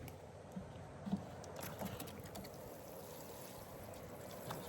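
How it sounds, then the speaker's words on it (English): Newly planted garden plants being watered, a soft continuous trickle and patter of water close by, with a few faint knocks and no talking. "All right, I'll water these in."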